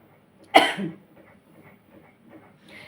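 A single sharp cough sounds close by, followed by soft breathing and faint murmurs in a quiet room.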